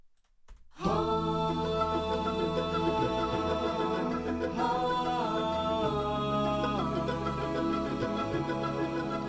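A single singer's layered a cappella melody parts, stacked voices forming sustained chords and shifting lines, enters after a short pause and holds steady, full and close throughout, with no percussion.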